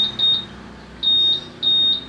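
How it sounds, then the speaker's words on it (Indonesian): Motorcycle answer-back alarm system beeping in three groups of short, high electronic tones, two or three quick beeps each, close and clear over a quiet background hum. "Jadi ada bip bip, ada bip bip bip 3 kali atau bip bip gitu aja."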